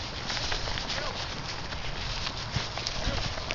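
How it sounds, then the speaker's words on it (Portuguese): Horse hooves clip-clop steadily at a walk during a horseback ride, close and fairly loud over continuous outdoor noise, with faint voices in the background. "Passeinho a cavalo."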